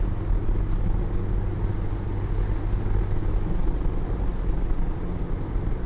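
A car driving at 50 mph while vibrating aggressively fills the cabin with a steady, loud low rumble and road noise, continuous and close with no talk.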